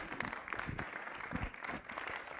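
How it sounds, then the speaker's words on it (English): Audience applause at a lunchtime public talk, a steady patter of many hands clapping throughout at moderate level with no speech over it. "Let's give Sarah a round of applause first."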